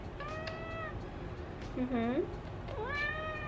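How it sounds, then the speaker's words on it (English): A pet cat meows indoors, giving three or four short, close, whiny calls spaced across a few seconds, with low background noise. "So my kitty cat is attacking me."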